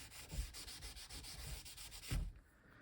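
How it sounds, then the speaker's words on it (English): Glued copy paper in a mixed media art piece is burnished down by hand, with a quiet, steady run of soft rubbing strokes and a couple of firmer swipes, close up and alone. "And burnish that down."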